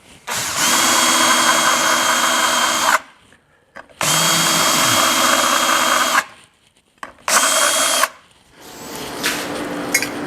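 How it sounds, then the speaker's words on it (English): A power drill countersinks holes in metal parts before welding on a 1939 Hudson rat rod, whirring loudly in three bursts separated by short pauses, the last burst shorter and rougher. "So I'm going to countersink these holes quite a bit, just to provide a little gap for the welding."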